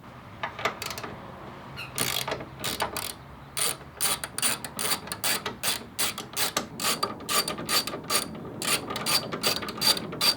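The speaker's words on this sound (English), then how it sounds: "We're gonna grab our socket and just remove them." Socket wrench ratcheting repeatedly while removing 10mm bolts from a 3rd Gen Toyota Tacoma tail light, quick close clicking bursts in steady rhythm with brief pauses, no talk.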